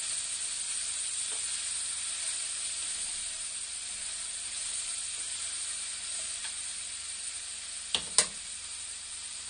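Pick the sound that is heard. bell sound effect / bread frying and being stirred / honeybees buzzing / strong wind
bread frying and being stirred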